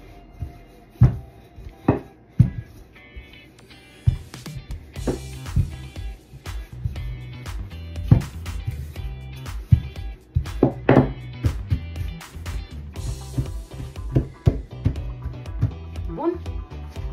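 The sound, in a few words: knife trimming edges of rolled chocolate dough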